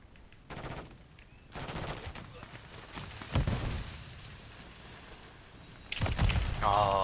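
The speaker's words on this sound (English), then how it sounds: "Oh, I got sniped." Call of Duty multiplayer match with repeated sharp gunfire bursts, including a sniper rifle shot, loud and close, amid game noise and someone talking over it.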